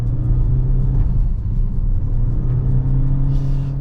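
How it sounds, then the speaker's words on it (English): A 2023 Toyota Corolla hybrid engine drones steadily under acceleration through its CVT gearbox, a loud, constant low hum with no gear changes, heard alone without talk. "when you do accelerate, you still get what's probably best described as mooing"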